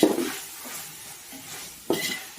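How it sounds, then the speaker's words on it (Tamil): Ginger, garlic, mint and coriander sautéing in a pan for vegetable pulao, a soft low sizzle broken by two sharper spatula scrapes against the pan. "இஞ்சி பூண்டு நல்லா வதங்கட்டும், வெயிட் பண்ணுவோம்."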